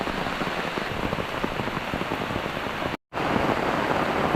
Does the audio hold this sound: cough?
no